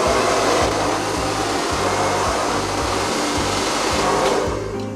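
A handheld hair dryer blows steadily on long natural 3B/3C curly hair pre-treated with heat protectant, a loud continuous whooshing roar with a low motor hum and slight pulsing as the dryer moves, no talking.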